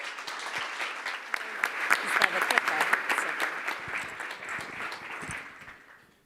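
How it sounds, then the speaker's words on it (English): Audience applause at the #designFAO 2023 design event as speaker Kim Tang comes on stage: clapping swells, peaks midway with a few sharper claps, then thins and fades out at the end. "A round of applause for Kim, please."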